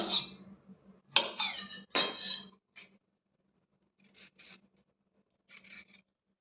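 Carrots are peeled in a few short, raspy scraping strokes, close and fairly quiet, with pauses between them.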